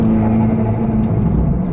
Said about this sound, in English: I get carried away with the flutter noises